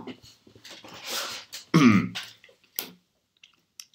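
A man clears his throat and coughs a few times after laughing, short rough bursts close to the mic between brief pauses.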